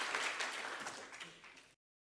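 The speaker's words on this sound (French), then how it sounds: "encore un petit round d'applaudissements" Conference audience applauding at a colloquium, a dense wash of clapping that starts at full strength and gradually thins out over about two seconds before cutting off.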